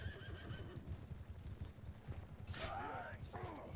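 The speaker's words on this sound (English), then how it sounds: "Horse goes down." Horses in a castle siege battle in Mount & Blade II: Bannerlord whinny loudly over a steady clatter of hooves, with a dense bed of battle noise underneath and a second neigh following close after the first.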